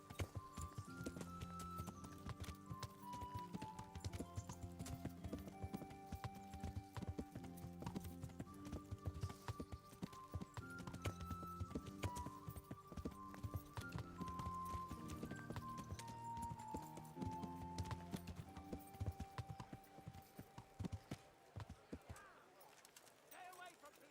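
Horse hooves clip-clop through a medieval Bohemian town in Kingdom Come: Deliverance, a steady rhythmic patter under a dense bed of music and ambient chatter, with faint bird calls and a horse whinny mixed in.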